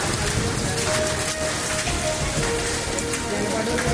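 Unseasonal rain with stormy wind falls steadily on surfaces, a dense continuous patter close by and at even loudness throughout.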